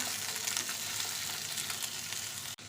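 Chopped onion and green chillies sizzle in hot oil in a home kitchen while a prawn dish is being made, producing a soft, continuous close hiss with light crackles, steady throughout and broken by a brief clatter near the end.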